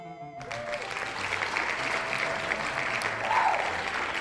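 Steady applause fills the whole stretch after a brief quiet start, with a faint tone rising briefly near the end.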